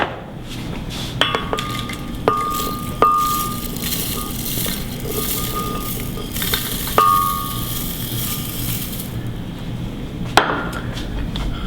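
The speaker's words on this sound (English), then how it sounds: "So let's get them in the blender." Raw almonds crushed in a blender, a loud sustained grinding roar with rattling hard knocks and a few sharp clatters throughout, close and continuous.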